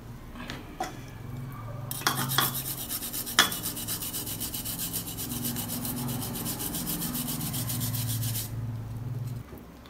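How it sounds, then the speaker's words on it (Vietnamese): Peeled garlic being grated thinly, a steady close scraping rasp that runs for several seconds after a few scattered knocks and then stops abruptly. "Sau đó các bạn mài mỏng tỏi."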